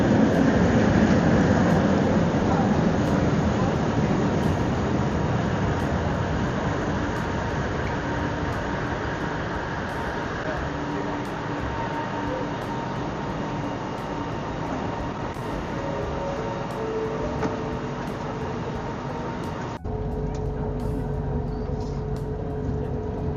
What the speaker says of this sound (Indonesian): Dan kebetulan juga tren dari sana juga nyampe.